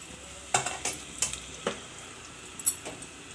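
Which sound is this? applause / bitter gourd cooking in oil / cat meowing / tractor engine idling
bitter gourd cooking in oil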